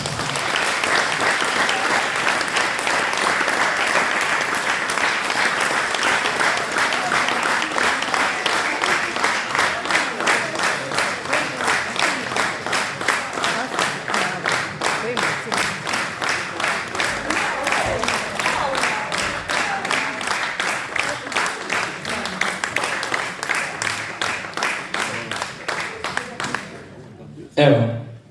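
A packed hall audience claps loudly for a band from Velenje at a 30th-anniversary concert, the applause settling into steady rhythmic clapping in time for nearly half a minute before stopping abruptly.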